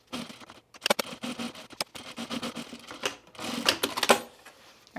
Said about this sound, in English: We're gonna top stitch along the seam.